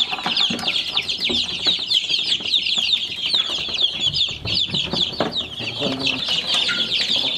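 Chickens cluck steadily and close by, with rooster calls among the hens and faint murmuring voices underneath.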